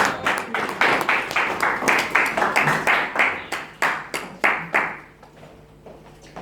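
A church congregation applauding, a burst of brisk rhythmic clapping that carries for several seconds, then thins and dies away to a few scattered claps.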